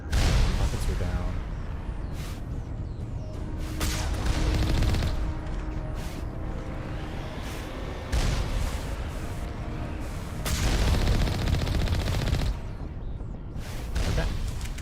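Rockets and gunfire in a video game battle: booming blasts, rumbling explosions and bursts of shots come in waves, loud and close, with a voice speaking over the combat.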